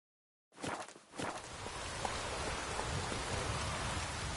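Rain falls steadily in The Witcher 3 video game, a dense, even hiss that starts abruptly after a moment of silence, with a few soft steps or thuds in the first second.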